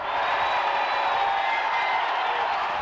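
A college baseball crowd at an LSU game chants "Moo" for player Lyle Mouton, heard as a dense, sustained roar of many voices, loud and unbroken throughout.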